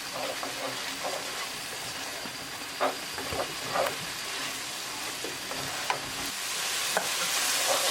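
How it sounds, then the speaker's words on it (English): Kashmiri chili and turmeric powder frying in a hot tadka on high heat, a broad steady sizzle with a few soft stirring scrapes, close but fairly quiet, no voices. "Add all these dry spices into tadka and mix it well."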